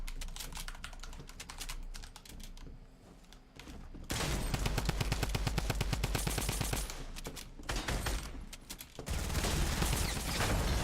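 Rapid bursts of automatic gunfire crackle in the Fortnite battle royale game, dense strings of shots that pause briefly and resume, loud and close.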